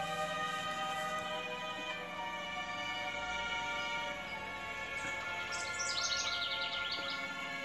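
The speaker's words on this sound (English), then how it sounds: "That chirping noise is the little ones that live in that house." Small birds chirp outdoors near a house, with thin high repeated tweets over a steady background hum, fairly faint and without speech.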